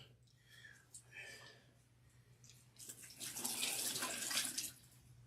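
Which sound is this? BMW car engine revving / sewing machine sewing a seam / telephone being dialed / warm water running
warm water running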